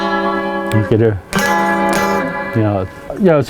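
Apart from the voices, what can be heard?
electric guitar played through a single pickup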